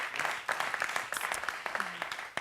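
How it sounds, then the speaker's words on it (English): An audience applauds at a fashion week summit, a burst of quick overlapping claps near the front, uneven and moderately loud, while some voices murmur underneath. "I clap for that."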